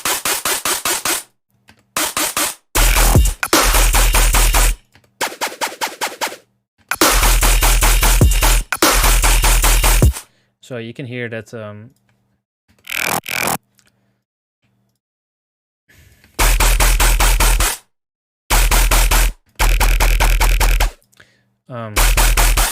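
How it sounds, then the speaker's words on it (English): A grungy, stabby synth bass from a Serum layer in a dubstep-style track, heard as loud, abrupt bursts separated by silences. There is a short filtered wobbling passage in the middle and brief speech partway through. "This is a more stabby bass that comes into the end."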